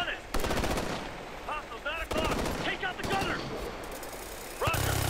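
Bursts of machine gun fire from a fixed turret in a tactical shooter video game, loud repeated volleys with pauses between, under shouted voices and game noise.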